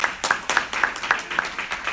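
An audience claps together in a steady burst of applause, a fairly close and even patter of many hands lasting a couple of seconds.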